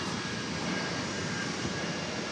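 A Polar Air Cargo plane arriving at DFW Airport from Cincinnati, a constant jet engine roar that holds steady at moderate loudness throughout, heard from a distance with no talking.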